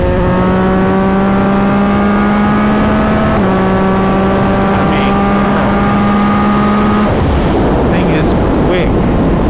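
A Yamaha XSR 900 motorcycle with a full titanium exhaust and tune, engine note rising steadily under acceleration, then dropping at a gear change and climbing again before turning to rushing wind noise, loud and close.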